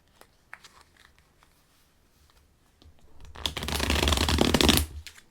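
A Visconti tarot deck is shuffled: faint scattered card taps first, then a dense riffling burst of close, crisp card flutter lasting about a second and a half.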